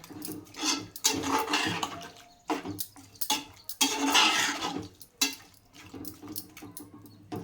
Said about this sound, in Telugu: ఇదిగోండి తగినంత వాటర్ వేయాలి.